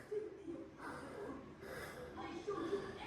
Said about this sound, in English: 2 flights of stairs, I'm already breathing heavy.